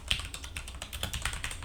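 Typing on a Red Dragon K630 Dragonborn mechanical gaming keyboard gives a steady run of close, crisp key clicks with no talking.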